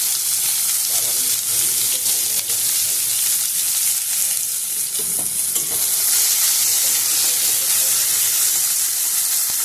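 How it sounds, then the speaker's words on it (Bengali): Chopped large onion dropped into hot oil in a pan for a Bengali fish chachchari, frying with a loud, steady broadband sizzle throughout, with faint stirring clatter and no talk. "সেই পেঁয়াজ কুচিটা আমি তেলের মধ্যে দিয়ে দেবো"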